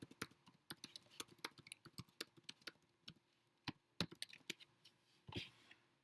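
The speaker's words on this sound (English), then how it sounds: "I'm going to type it out for you right now." Quick, irregular keystrokes on a computer keyboard, close and fairly quiet, with scattered sharp clicks and a couple of heavier key presses near the end.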